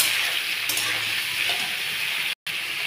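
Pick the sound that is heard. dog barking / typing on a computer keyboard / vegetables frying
vegetables frying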